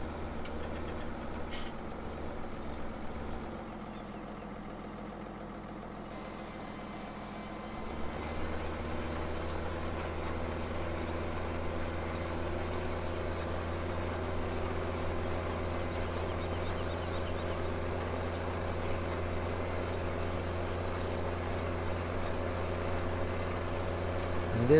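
A farm tractor's engine drones steadily while pulling a direct drill across a field in a farming video game, a low continuous rumble that steps up louder partway through and then holds even, with no talking.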